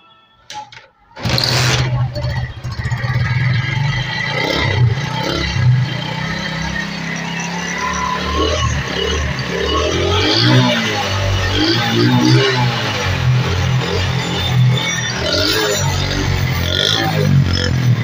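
A Honda CD 70 motorbike starts after a quiet moment, then its small single-cylinder engine idles and runs steadily near the listener with a busy mechanical putter, rising slightly in loudness later.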